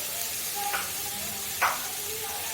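Onion and tomato hiss softly while frying in a pan, a faint steady sizzle with two brief louder spurts, over quiet background music.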